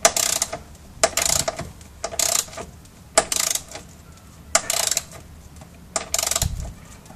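A ratcheting socket arm tightens an expanding fastener on a BMW E39 electric conversion, with close, crisp clicking bursts repeated in a steady rhythm, roughly one pass every second, and no talk.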